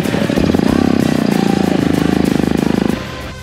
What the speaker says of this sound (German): Der Motor läuft.